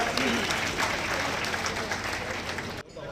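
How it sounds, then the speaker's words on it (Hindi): A crowd at a college talent search program in Bhiwani gives loud, sustained applause that fills the room and then cuts off abruptly near the end. "एक बार जोरदार तालियां"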